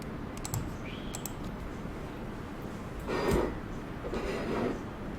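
Computer keyboard typing and mouse clicks come through as faint, scattered taps and clicks in a quiet room during a basic computer class, with a couple of louder rustling sweeps and no talk.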